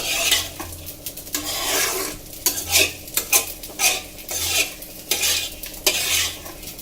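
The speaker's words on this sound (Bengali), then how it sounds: "দেখো চালটা ভাজা করে নিচ্ছি।" Rice for sweet pulao being fried and stirred in a pan, a steady scraping sizzle broken by repeated spoon-against-pan strokes in an uneven rhythm, close and fairly loud, with no talking.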